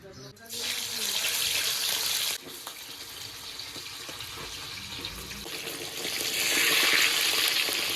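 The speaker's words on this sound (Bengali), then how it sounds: "তেলটা গরম হয়ে গেছে, এবার মাছের পিসগুলো এক এক করে ভেজে নেব" Bata fish pieces rubbed with turmeric and salt fry in hot oil, giving a loud, steady sizzling hiss that dips briefly after a couple of seconds, then swells louder toward the end.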